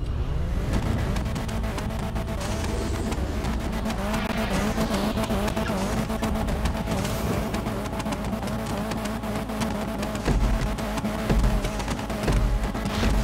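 Race cars in Grand Theft Auto V roar continuously with engine drone, revving and tire skids, loud and dense throughout with no pauses.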